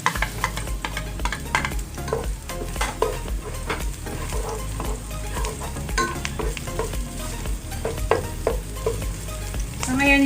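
Garlic and onion sautéing in a pan for arroz caldo with ox tripe, a steady loud sizzle with repeated scraping stirs throughout, no talk.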